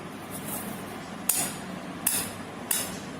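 Three sharp, evenly spaced strikes on a copper metal piece, each a bright ringing clang that decays quickly, over a steady low background hum.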